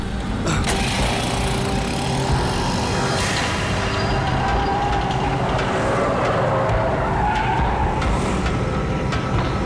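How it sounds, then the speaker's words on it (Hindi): A car in a Hindi-dubbed action film arrives with a revving engine and skidding tires, the engine whine rising and falling over a dense, loud rumble for about ten seconds without speech. "भाई की गाड़ी आ गई।"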